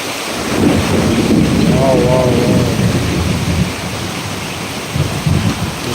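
Heavy rain pours steadily during a thunderstorm in Krishnagiri while thunder rumbles loudly and close, rolling for several seconds before fading back into the constant downpour.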